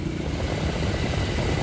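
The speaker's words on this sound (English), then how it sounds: "Still have the exhaust leak." A Mazda 5 engine with an exhaust leak runs steadily nearby, giving a rough, broad droning rumble that holds even throughout.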